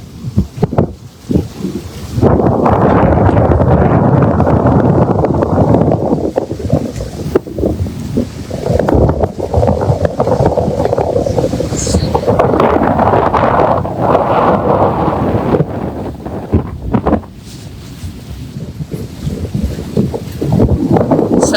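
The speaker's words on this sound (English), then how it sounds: "the wind's picking up a little" Strong wind roaring across the microphone at sea during a sailboat race start from Mauritius, loud and gusty, rising and falling in long surges with faint water and hull noise beneath.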